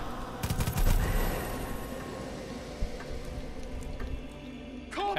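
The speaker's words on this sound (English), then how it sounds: "Alright, so machine gun." Machine gun fire in the Far Cry 5 video game, a dense burst of rapid shots up front that settles into a steady rattling gunfire bed, with a sharp single crack near the end.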